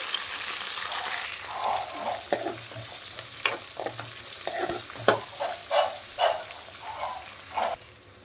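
Green chillies and chopped onions fry in hot oil for tomato bath, a close, steady sizzle broken by repeated scraping and clacking of a spoon stirring the pan.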